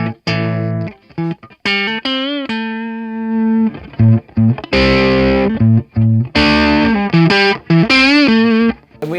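Electric guitar played through a Marshall Valvestate 40V 8040 amp with the bass turned right up, giving a warm, distorted 70s-style tone; loud chords and sustained notes ring out in bursts with short gaps, alone with no talking.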